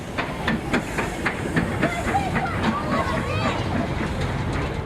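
A steam train rolls past without slowing, its regular wheel clicks and hissing steam fairly close and steady, while someone talks over it.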